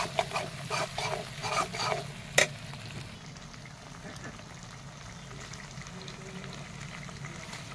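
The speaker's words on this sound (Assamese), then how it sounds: "তাতে আমাৰ মাছৰ পেটু ভজা হৈ আছে" Oil sizzles steadily as fish belly fries, with stirring scrapes and a sharp clack early on, then a calmer continuous sizzle as rice is added.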